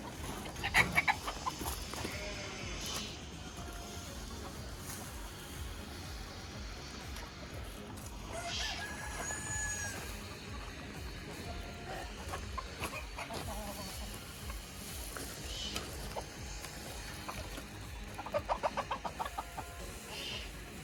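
Hens cluck and cackle intermittently around a farmyard, with soft rustling and a few louder bursts of calls from several birds.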